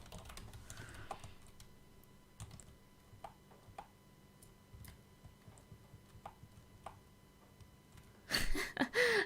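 Computer keyboard typing in short scattered bursts of clicks, fairly faint against a quiet room, with a louder rustling burst near the end.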